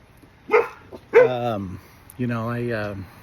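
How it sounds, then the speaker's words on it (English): A dog outdoors giving a few short barks followed by a longer whining, howl-like vocalization, close and fairly loud, with quiet stretches between. "Sorry, I'm outside and my dog's right here with me."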